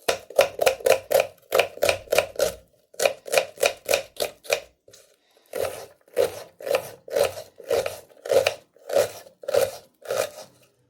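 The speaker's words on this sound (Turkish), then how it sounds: "Öncelikle soğan doğrayalım." Rapid, regular knife chops on a wooden board cutting onion, bursts of quick strikes with short pauses between, close and clear with no talking.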